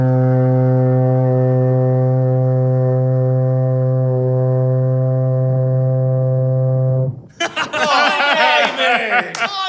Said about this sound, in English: It's a working foghorn.